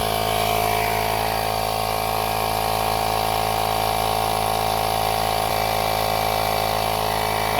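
A battery-powered pump runs steadily up close, inflating a tire on a 1978 Ford Fairmont that sat for 35 years, a loud continuous motor drone with a buzzing hum and no pauses.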